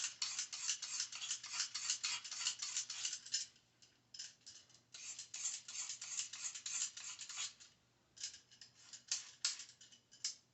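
Carrots are peeled with quick, rhythmic rasping scrapes, close and crisp, in bursts with a couple of short pauses between runs of strokes.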